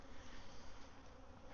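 Dense, steady buzzing of many honey bees crowded inside a hive being split, a continuous loud drone with no break and no voices.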